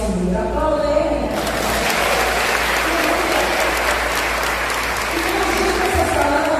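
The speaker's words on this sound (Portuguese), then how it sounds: "Aplauda Ele." Church congregation applauding during a Foursquare missions congress service in São Luís, Maranhão, Brazil, sustained enthusiastic clapping from many hands filling the room after a brief spoken lead-in.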